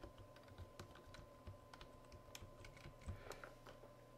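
Keys tapped on a computer keyboard while entering a verification code during account sign-up, a quiet, irregular run of light clicks with no talk.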